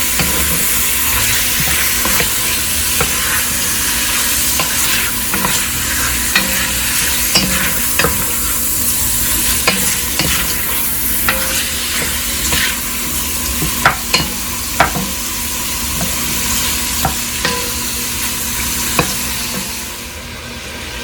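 Shrimp for Cajun pasta with chicken and sausage fry in a pan, sizzling steadily and loudly while a utensil scrapes and clicks through repeated stirring strokes, with no voices over it.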